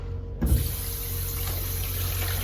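A straight razor is rinsed under a running tap, with a steady, close rush of water that starts abruptly after a brief knock and continues without pause.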